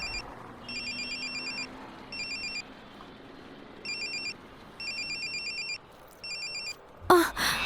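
A mobile phone inside a bag rings in repeated electronic bursts of chiming tones, muffled and moderately loud, ending with a short rustle.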